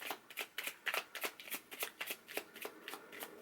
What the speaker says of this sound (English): So let me just shuffle slow.